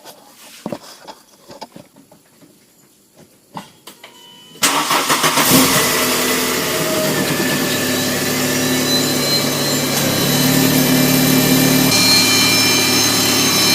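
A VW Cabrio Mk3.5 car engine cranks and catches after some clinking garage noises, then settles into a steady, loud idle, with one air pump noisy after a valve cover gasket job.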